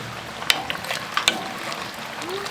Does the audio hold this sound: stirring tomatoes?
yes